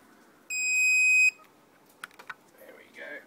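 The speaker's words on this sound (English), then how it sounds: "Turn the heat alarm off." Heat alarm giving a single steady high-pitched beep lasting under a second, indoors and fairly close, followed by a few soft clicks and brief faint talk.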